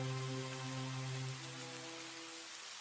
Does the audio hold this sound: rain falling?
yes